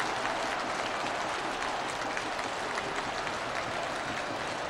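Football supporters at Pride Park roar and applaud after Derby County score against Colchester United, a dense, loud, continuous crowd wash with no distinct drum beats standing out.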